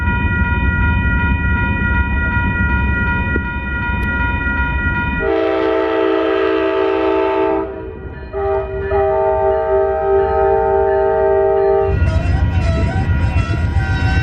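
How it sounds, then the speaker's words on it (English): An Amtrak train rumbles steadily close by as it slowly arrives at Lordsburg station, New Mexico, while its horn sounds in long, loud blasts, pausing briefly before sounding again as it rolls in. "Oh man, the train's coming in real slow."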